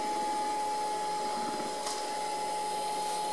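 A Cecotec Conga 9090AI robot vacuum cleaner runs indoors with a steady, loud whirring hum and a constant high tonal whine, broken only by a brief scrape.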